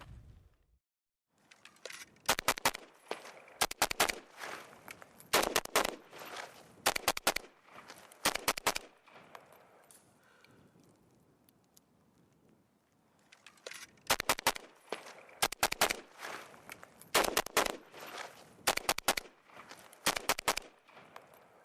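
AK (Kalashnikov) rifle gunfire sounds in sharp, rapid strings of shots, grouped into two clusters with a quieter stretch of faint movement between them.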